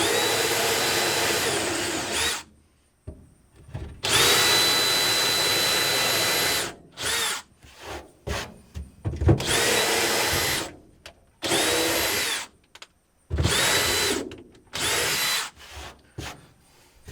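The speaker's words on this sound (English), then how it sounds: "Now we're gonna auger them bigger." Power auger boring pilot holes bigger in soil during wetland delineation in Vermont: a loud, close motor whine in repeated bursts of one to three seconds, separated by short silences.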